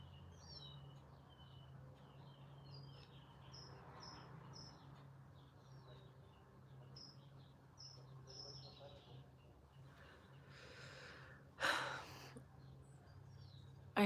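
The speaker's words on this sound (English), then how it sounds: "Can you guys hear all the birds?" Birds chirp in short repeated calls in the background, fairly faint, over a low steady hum, with a brief breathy rustle near the end.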